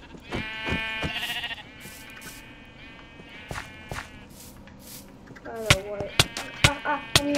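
Sheep bleat in the Minecraft video game, with several drawn-out wavering calls, then a cluster of sharp hits and sheep cries near the end, loud and close.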